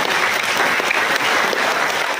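Steady applause from a church congregation during a worship service, dense and continuous throughout without a break.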